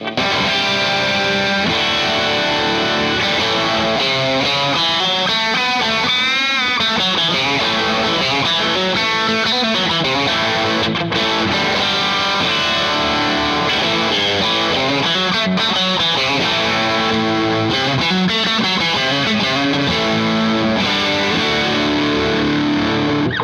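A Fender Antiqua Stratocaster made in Japan plays through a high-gain distorted amp, a dense, loud, sustained run of chords and riffs filling the whole passage with no talk.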